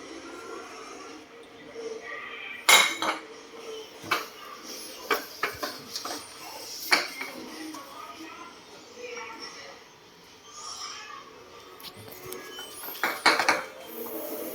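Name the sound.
child washing plates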